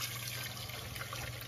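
Acorns and water poured through a strainer while making acorn flour, a steady close trickling and splashing wash with no talk.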